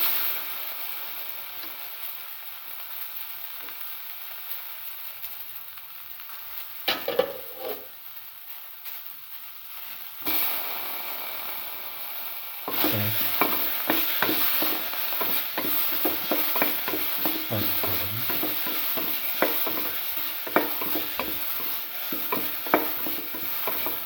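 Tomato pieces frying in a pan, quiet hiss at first, then after a sharp drop into the pan a louder sizzle with repeated stirring scrapes, close and steady, no talking.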